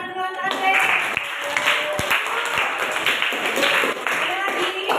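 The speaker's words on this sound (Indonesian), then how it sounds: "Tepuk tangan dulu untuk Andre." A school class claps hands together for a classmate, a short burst of close, fairly even clapping lasting several seconds, with voices and chatter underneath.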